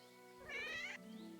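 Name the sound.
cat meowing in the video game Kingdom Come Deliverance 2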